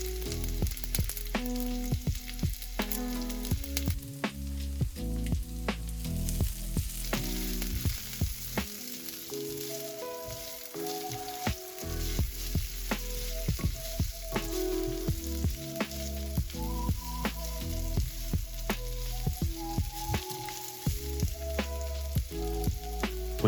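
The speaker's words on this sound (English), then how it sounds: "We're going to throw in the onions and gently soften them just for a minute or two" Onions softening in a hot pan for a burger, a steady crackling sizzle with bright spitting pops running throughout, close and fairly loud with no voices.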